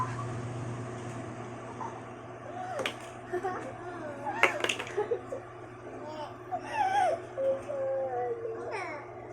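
A baby whimpers and cries in short, rising bursts over a low steady hum, with nearby voices.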